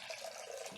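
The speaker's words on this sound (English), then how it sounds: "And we're just going to pour that down in here." Water pours steadily into a plant pot while an orchid is being repotted, a soft continuous trickle and splash close by for under a second.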